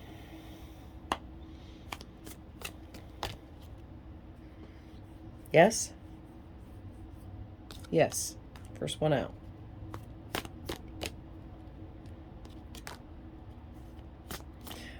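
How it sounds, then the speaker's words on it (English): Tarot cards being shuffled by hand, soft riffling snaps and slides in short bursts, with a few brief words spoken between them. "They shuffle really good."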